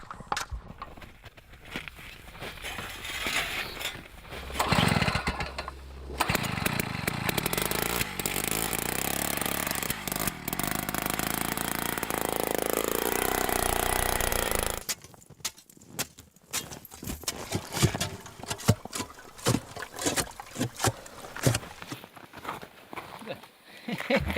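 A powered auger bores a hole through Arctic ice, running as a loud, steady mechanical whine for several seconds before cutting off, followed by scraping, crunching steps and clatter with voices talking.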